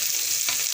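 Tomato, egg and onion frying in a pan give a brief close sizzle with a quick stirring scrape in the middle.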